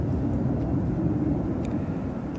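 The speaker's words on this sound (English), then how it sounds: "So our next arrival is the EasyJet A320 Neo, and that's coming from Bordeaux." An EasyJet Airbus A320neo arriving at a gusty Manchester Airport gives a steady, broad roar of jet engines, fairly loud and continuous with no voices over it.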